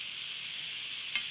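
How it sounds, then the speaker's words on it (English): Meat browning in a frying pan gives a steady bright sizzle that holds evenly throughout, with one brief louder crackle near the end. "we're just going to keep going with this and keep the meat browning"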